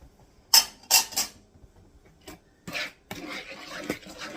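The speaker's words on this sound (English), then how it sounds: "And get that stirred in there" Flour is stirred into cookie bar dough with a utensil in a bowl, giving a few sharp scraping clinks early on, then softer intermittent scrapes and taps, close up with no talking.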